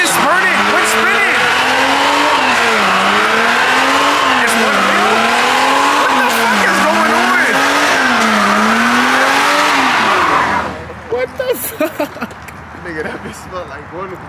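At an illegal street race, a twin-turbo AMG's engine roars loud and close while a tire spins and burns, the pitch rising and falling in repeated waves before cutting off abruptly to quieter, scattered sounds near the end.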